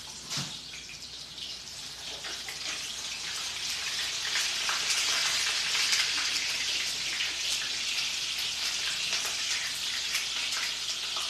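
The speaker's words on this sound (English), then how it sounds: "pan frying" Food pan frying on an AGA cooktop, a steady crackling sizzle that swells after a few seconds and holds at moderate loudness, with faint background clatter and no talking.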